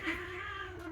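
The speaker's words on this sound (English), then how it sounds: "While we listen to a huge kitty fight," Cats fighting, giving a faint, drawn-out yowling caterwaul that holds a steady wavering tone for just under a second.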